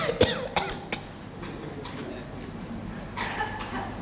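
A few sharp coughs in a row, fairly close, followed by scattered quieter coughs and throat noises over a low background hum.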